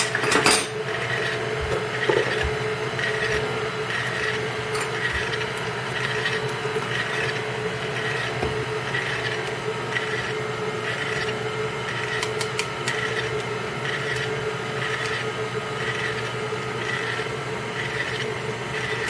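A stand mixer creams strawberry cake batter in a home kitchen, a steady, even mechanical whir running unbroken throughout with faint clinks of utensils and dishes over it.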